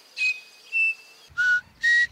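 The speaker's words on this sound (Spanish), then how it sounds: "con ese silbido tan característico que tiene el crespín" Four clear, pure whistled notes from a crespín bird, evenly spaced and sustained, with short pauses between them.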